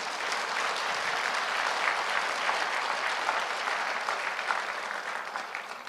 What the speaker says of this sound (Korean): 근데 한국에서는 박수를 치려면 다 치세요.